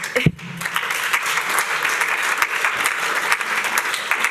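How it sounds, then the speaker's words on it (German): An audience at a hacker conference talk breaks into sustained, even applause that fills the room and holds at a steady level for several seconds. "Applaus"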